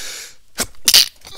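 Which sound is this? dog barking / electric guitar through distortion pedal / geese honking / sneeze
sneeze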